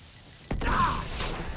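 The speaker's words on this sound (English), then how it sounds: "That was a lot of explosions." Explosions in Uncharted 2: Among Thieves on PS4, a sudden booming blast with a crashing rumble that rolls on briefly, loud and close, with no talk over it.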